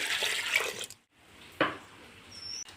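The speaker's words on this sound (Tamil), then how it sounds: "இப்போ நம்ம தண்ணி சேர்த்துக்கலாம்" Water poured from a vessel into a pot for sambar rice, a close pouring rush that stops abruptly, then a brief splash and trickle afterward.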